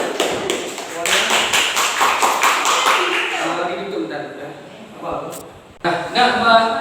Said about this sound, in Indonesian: Mari sama-sama kita tepuk tangan.